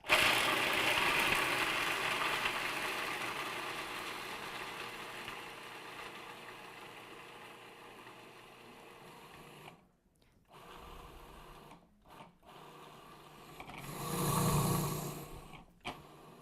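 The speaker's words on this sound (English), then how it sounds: "we're just going to blend these walnuts into a nice little flour for the crackers" A blender runs steadily while grinding soaked walnuts into flour, its motor droning loud and close, then cutting out in brief gaps before a final surge.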